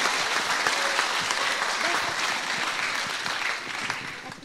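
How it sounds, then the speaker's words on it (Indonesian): Enthusiastic audience applause at a talk show event before a session on privilege, a continuous, even wash of many hands clapping close and loud throughout. "saya ingin tepuk tangan yang paling meriah sekali lagi"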